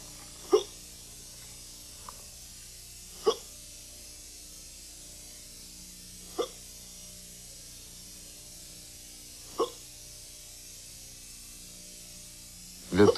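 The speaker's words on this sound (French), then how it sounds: "Le pain chaud donne parfois le hoquet." A grandfather hiccups after eating warm bread, sharp single hiccups spaced a few seconds apart, each short and clear against a quiet room hum.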